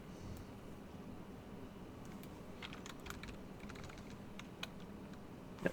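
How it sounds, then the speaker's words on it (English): Typing on a wireless computer keyboard, with soft, faint, irregular key taps over a steady background hiss and a slightly louder tap near the end. "Whereas my old mechanical keyboard definitely had that clackety sound."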